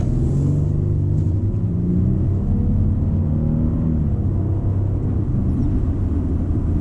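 A Lexus LX600 SUV, a heavy vehicle of over 6,000 pounds, accelerates hard, its engine a loud steady low rumble with rising harmonic tones heard from inside the cabin, with no talking.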